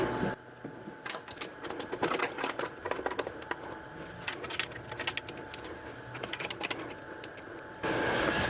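Metal lid of a pressure canner holding 7-quart jars being set on and locked down, a dense run of close, sharp clanks, scrapes and rattles over a steady background hum.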